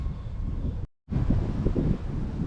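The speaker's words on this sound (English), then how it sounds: "the wind was making the scales just absolutely go crazy" Wind buffeting a microphone outdoors during a gold sluice cleanup, loud low rumbling gusts that cut out abruptly for a moment, then return just as strong.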